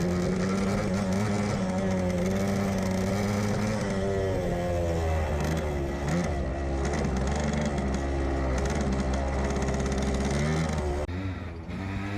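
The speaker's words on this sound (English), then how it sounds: "The bike did not want to shift properly and was smoking more than Cheech and Chong" An old motorcycle engine, left unused for 25 years and now bought for $100, runs steadily with a loud, continuous rumbling drone and some fluctuating revs throughout.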